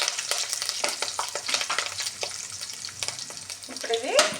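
Fresh curry leaves sizzle and crackle in hot tempering oil for a homestyle dal tadka, a dense, steady frying hiss with sharp pops and spits throughout, close and fairly loud.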